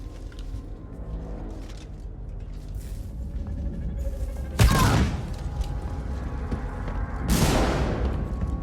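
Two booming shotgun blasts in the survival horror game Alien Isolation, one near the middle and one near the end, each a loud broadband burst with a short decaying tail over a steady low ambient rumble.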